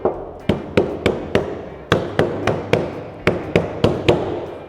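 Knuckle taps on a Toyota 4x4 door panel lined with sound deadening, a steady series of about fifteen short, dull, damped knocks, close up with no voices.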